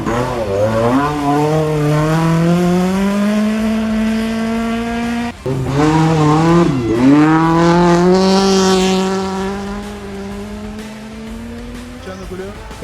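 A Volkswagen Gol rally car at a rally event in Catamarca roars through a long, loud, rising engine run, with a brief lift-off and gear change midway before the revs climb again, close and continuous.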